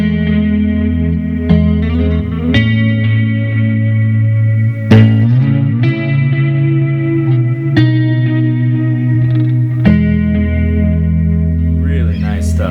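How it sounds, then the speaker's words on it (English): Electric guitar chords on a PRS Hollowbody I, strummed every couple of seconds through an MXR Black Label chorus pedal, shimmering with a wavering chorus effect and long ringing sustain, loud and alone. "Here's my MXR Black Label chorus added in there."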